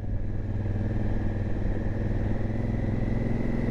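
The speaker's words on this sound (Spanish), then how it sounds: "No va ni para atrás la moto." Motorcycle engine labouring on a high páramo mountain road, a close, steady, heavy rumble that holds without break and with no voices.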